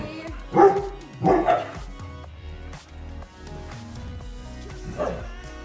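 A dog barks in a home, a couple of loud, sharp barks followed by softer yips and whimpers.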